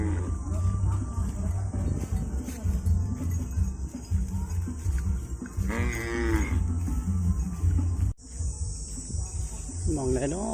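Cattle being led out to graze moo in loud, drawn-out calls, one in the middle and another near the end, over a steady bed of chirping crickets and low rural background noise.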